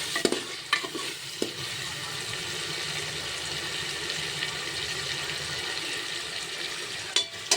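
Tomatoes and chillies cooking in a hot oil tempering for dal dhokli give a steady, soft sizzle, with a few clanks from a stirring spoon near the start and the end.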